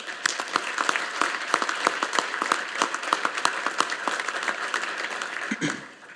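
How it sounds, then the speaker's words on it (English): An audience at a Naval War College graduation ceremony applauds the graduates with steady, fairly quiet clapping from a spread-out crowd, sharp individual claps audible throughout until it tapers off at the end. "please join me in a round of applause for the graduates."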